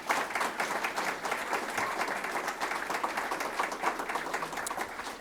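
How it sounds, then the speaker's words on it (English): Applause from an audience at a college event: a full room clapping together in a dense, even wash that holds steady for about five seconds. "How about a round of applause for all the planners?"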